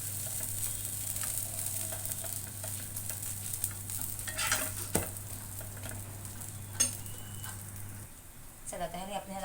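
Soft, steady sizzling of a potato paratha roasting on a hot pan, with occasional scraping and tapping, and a voice speaking near the end.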